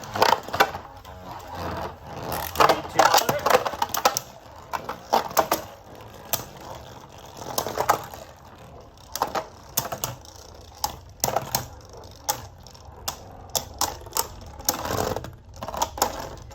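Beyblade spinning tops, Diabolos and Dread Bahamut, clash in a stadium, giving a continuous metallic whir broken by rapid clicking and scraping hits, with louder bursts of collision near the start and scattered again toward the end.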